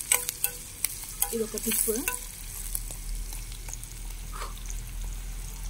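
Onions and green chillies fry with salt in a pan, a steady sizzle with scattered spatula taps and a short burst of stirring, while someone speaks briefly over it.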